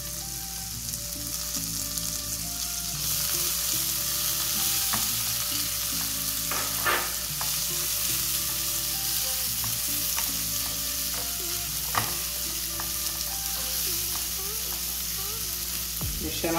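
Half an onion frying in a pan while a meat pancake filling is cooked, giving a steady broadband sizzle with occasional sharp clicks and scrapes of stirring, close and continuous, with no talking.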